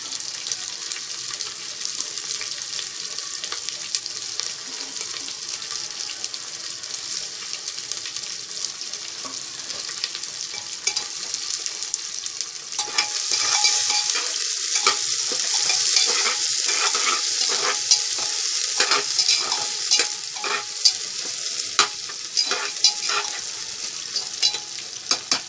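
Sliced onions frying with bay leaf for a mutton curry, a continuous close hiss that grows louder and denser partway through, broken by a run of quick stirring scrapes and clicks.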